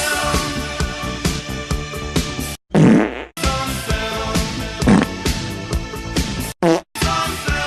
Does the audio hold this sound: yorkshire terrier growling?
no